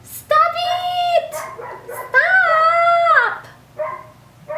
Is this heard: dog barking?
yes